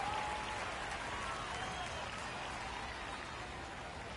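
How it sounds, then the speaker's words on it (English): Faint, steady cheering and applause from a virtual home crowd in a baseball video game, MLB The Show, the OKC Comets visiting the Reno Aces, a soft continuous hiss of distant voices and clapping. "Home crowd fired up here in the bottom of the first."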